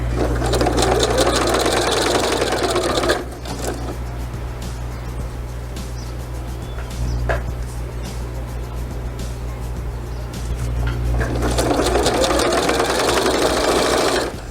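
A sewing machine stitches a simple fabric toiletry bag in rapid, close bursts, running for about three seconds, pausing through a quieter stretch with faint handling noises, then stitching again near the end.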